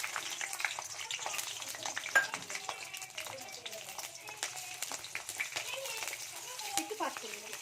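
Garlic and green chilli fry in oil in a wok, a bright continuous sizzle with crackling pops and stirring, while voices talk faintly in the background.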